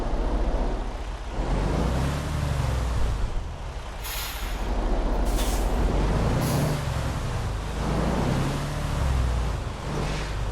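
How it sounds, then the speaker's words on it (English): Parking air brake on a truck in American Truck Simulator, set in Oklahoma with a garbage truck, sounds as several sharp high hissing bursts over a steady low rumbling engine idle, with no talking. "It put the parking brake on me."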